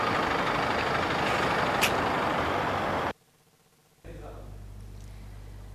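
Heavy trucks idle and rumble at a roadside inspection stop, a steady loud engine drone that cuts out briefly before a lower idle resumes.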